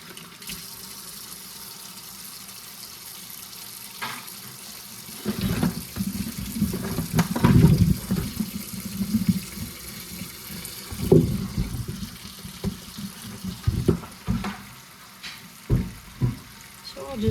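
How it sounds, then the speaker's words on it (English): Tap water runs into a kitchen sink while beets are washed, a steady close splashing stream that surges and sputters as the vegetables are handled, with talking over parts of it. "I'll just give them a really good wash"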